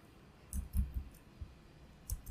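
A few crisp computer mouse clicks, close and quiet, in a short cluster then one more click after a pause.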